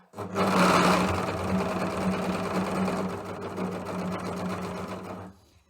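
An overlocker runs continuously at steady speed, stitching a 4-thread overlock seam over fabric and piping for a zipper bag, loud and close with only a brief start and stop.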